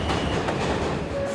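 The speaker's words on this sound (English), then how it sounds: "Midnight on the New York subway." A New York subway train running late at night, with a steady rumbling roar and rail clatter throughout and a faint squeal near the end.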